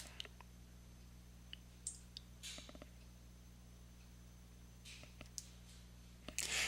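A computer mouse gives a few sparse, quiet clicks at irregular intervals over a low, steady room hum, with no one talking.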